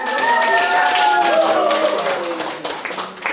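A classroom claps after a student presentation, a dense burst of applause lasting a few seconds with faint voices mixed in.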